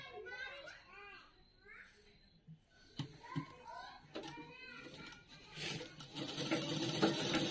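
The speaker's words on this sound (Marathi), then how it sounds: "जोपर्यंत ती देत आहेत तोपर्यंत आपण एक टीप मारून घेऊ." A sewing machine runs in short stitching bursts among children's chatter and voices, with a longer, louder run of stitching near the end.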